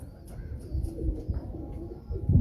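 A female pigeon gives soft, low, repeated coos, close and fairly quiet, over a faint background with occasional high chirps from other birds.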